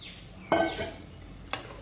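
Cooked mutton bones stirred into a bone curry in a pot, a sharp scraping stir then a brief second clatter, close and alone.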